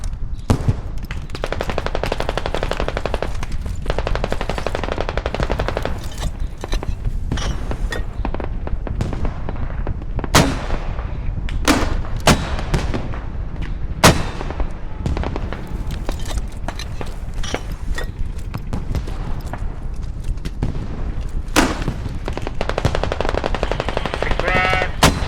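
Machine gun fire rattles in sustained, rapid bursts, loud and close, with sharp individual cracks standing out between the dense volleys over a steady background roar.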